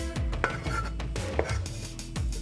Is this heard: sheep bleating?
no